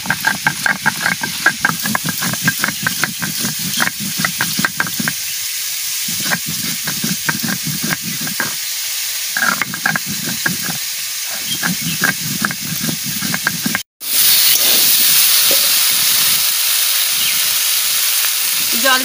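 Cumin seeds and four chillies sizzling in hot oil, a bright crackling hiss with rapid popping spatters that come in uneven bursts, close and steady, then a sudden cut and a smoother, louder steamy sizzle.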